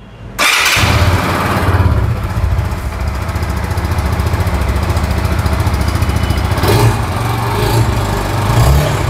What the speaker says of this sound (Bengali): এরপরে হচ্ছে আমরা বাইকের যে সাউন্ড সেটা আপনাদেরকে শুনিয়ে দেব